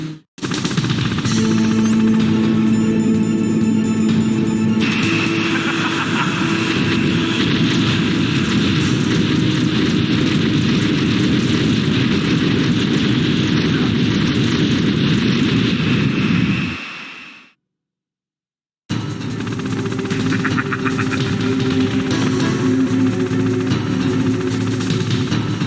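A Hind attack helicopter in Metal Gear Solid roars loud and steady with a droning engine hum, cuts out to silence for about two seconds, then resumes at full strength.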